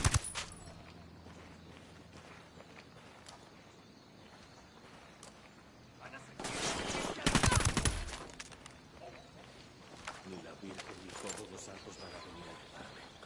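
Automatic gunfire in Ghost Recon Wildlands, a loud sustained burst of rapid shots breaking out midway through quieter game ambience, with voices talking over the action.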